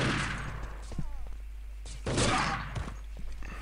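Gunfire in a multiplayer shooter game, a few sharp reports spread across the stretch with a louder burst near the end, heard over a steady low hum and background chatter.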